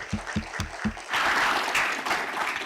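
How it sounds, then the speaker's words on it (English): An audience breaks into applause for speaker Jim Gorman at a science communication talk, a full steady round of clapping from many people that follows a few closer low thumps and continues to the end. "Let's give him a round of applause."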